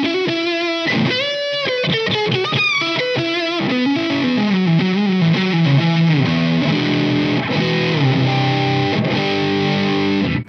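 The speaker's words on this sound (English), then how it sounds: "The neck pickup gives you that cream." Ibanez JEM Jr electric guitar on its neck humbucker, driven at high gain through a Blackstar amp, plays a continuous run of distorted notes and sustained chords, loud and unaccompanied with no talking.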